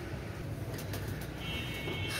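Pet pigeons for sale, including Teddy and Saki breeds, coo softly and continuously in a low, steady murmur, with some faint background noise and no voices.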